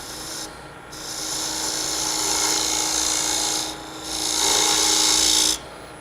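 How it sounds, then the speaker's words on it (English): A spindle gouge cuts a wooden tenon on a spinning lathe, giving a loud, steady hissing scrape in two long passes separated by brief pauses, over the low hum of the lathe. "I'm going to clean that up with a spindle gouge."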